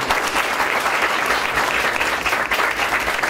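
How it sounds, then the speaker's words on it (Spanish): A lecture audience of university students gives steady, dense applause for the Superintendent of Securities and Insurance, loud and unbroken with no voices over it. "Entonces, le damos un aplauso."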